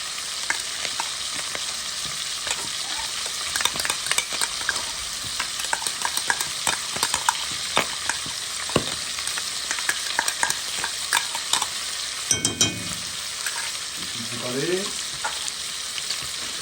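Spices stirred into boucané (smoked pork) frying with cabbage, with a constant loud sizzle broken by frequent scraping clicks of a utensil against the pan, close by and with no talking.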